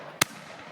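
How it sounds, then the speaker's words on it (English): A single sharp firework bang goes off at New Year's, one loud broadband burst that decays quickly over a low background hum. "That was a firework."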